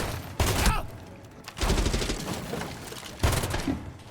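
A Vector submachine gun fires in Rainbow Six Siege in three sharp, rapid bursts. Each burst is loud and close, and the short gaps between them are quieter.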